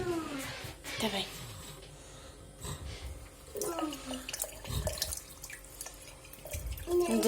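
Hot water runs from a household tap to wash a toy horse, a soft trickling and dripping flow with clatter, beneath a child and an adult talking.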